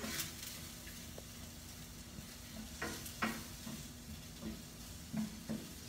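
Spices blooming in hot oil for Moroccan chicken, a quiet steady sizzle with scattered crackles and occasional scraping stir strokes, close-up and fairly soft with no talk.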